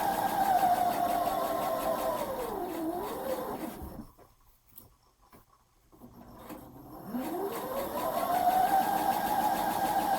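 A sewing machine stitches romper fabric along a seam guide line with a steady motor hum that slows and speeds. It falls quiet briefly midway, then starts up again and runs on.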